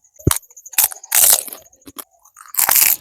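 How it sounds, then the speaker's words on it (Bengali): Dry fuchka (phuchka) shells bitten and chewed without tamarind water, producing several loud, close crunches in separate bursts with brief quiet gaps between bites. "ফুচকা খাচ্ছি, টক নেই"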